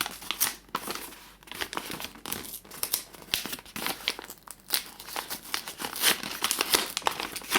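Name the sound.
loosening the bottom of a paper bag, paper crinkling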